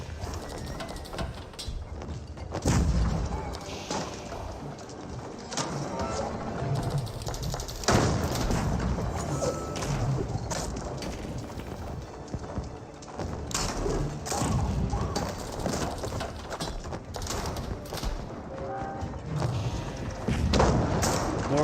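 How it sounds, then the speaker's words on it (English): Trebuchets bombard a castle in Age of Empires 4, heavy thuds and booming impacts landing repeatedly over a busy battle din of clattering and rumbling, with occasional hoof-like clopping mixed in. "Multiple trebuchets being pulled out, bombarding down the Berkshire Castle."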